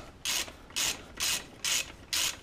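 A hand ratchet loosens the nuts on a broken motorcycle exhaust with five crisp, evenly spaced bursts of clicking, close and alone with no talk.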